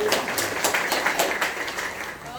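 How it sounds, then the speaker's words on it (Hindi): A crowd at a women's group gathering at a Buddhist vihara claps steadily and fairly loudly for about two seconds, with voices mixed in under the applause. "एक बार मैं इनके लिए जोरदार ताली चाहूँगा"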